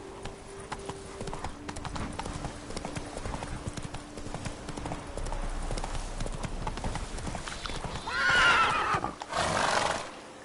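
Roach, the horse in The Witcher 3, gallops with rapid rhythmic hoofbeats close by, then gives a loud neigh near the end, with faint speech in places.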